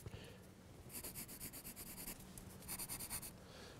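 An ink pen draws on paper in rapid, rhythmic scratching strokes, two bursts of quick repeated scratches close up, quiet with no voices.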